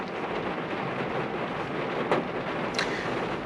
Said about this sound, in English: Okay, it's raining pretty good out.